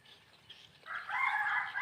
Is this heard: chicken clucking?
yes